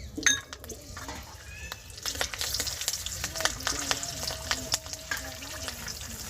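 Bay leaves and slit green chillies dropped into hot oil in a pan after sugar has melted, giving a steady close sizzle with clinks of a utensil and brief talk over it.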